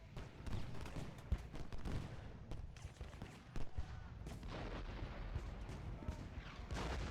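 Rumbling battlefield fire in the Civil War strategy game Ultimate General, a dense, low, continuous roll of musketry with occasional heavier cannon thumps, steady and fairly distant throughout.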